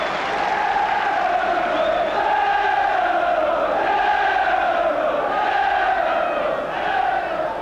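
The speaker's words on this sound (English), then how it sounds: "Generous applause from the Norwich fans as well as those of Liverpool." Football fans in a stadium at a Norwich City v Liverpool match applaud and cheer, a continuous loud crowd roar with rising and falling chant-like swells and no distinct individual claps.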